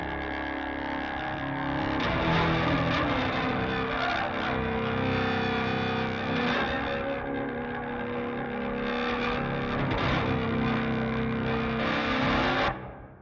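A single take of heavily distorted electric guitar with layered effects, played for Halloween film music, a dense continuous wall of sound that holds steady for about thirteen seconds before cutting off.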